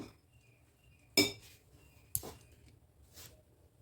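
A spoon mixing spices and black salt into a sweet-sour lemon pickle, giving two separate metallic clinks against the container over a quiet background.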